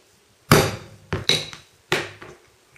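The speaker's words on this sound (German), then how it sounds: "Dafür stanze ich nun in das eine Ende noch ein Loch für die Niete." A hole being punched in a leather strap end for a rivet: three or four sharp, loud hammer blows strike a punch one after another, close up, with quiet pauses between.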